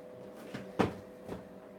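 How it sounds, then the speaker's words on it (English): A back door in a home workshop opens with a single close clunk of the latch and a short rattle, followed by a fainter knock, over a low steady hum. "I'm just going to open this back door,"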